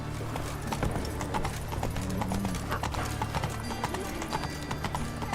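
Horse hooves in The Witcher 3, a quick steady clip-clop close by with a brief snort or whinny-like sound midway, no talk.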